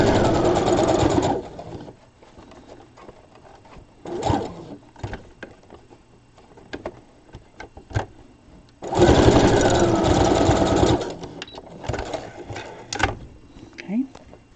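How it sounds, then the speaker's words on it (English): Two long bursts of a sewing machine back stitching fabric edges run loud and fast, separated by quieter handling clicks, rustling fabric and a spoken voice. "I'm going to back stitch, keeping your edges of your fabric together."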